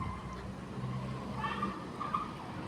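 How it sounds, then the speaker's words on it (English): A bus passes by outdoors, a broad low engine rumble swelling and fading over a few seconds with some higher tonal whine mid-pass, moderately loud against street background. "The bus sounds really annoying."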